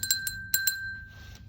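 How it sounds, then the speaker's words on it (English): Paintbrush rinsed in a glass of water during a watercolour painting lesson, giving a few light, close clinks of bristles and ferrule against the glass, followed by a soft swish of water. "Wash your brush."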